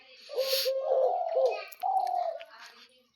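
Deep-throated turtle doves, a kept pair offered for sale, coo in two low, rolling phrases that sound close by, with faint chirps and rustling in the background.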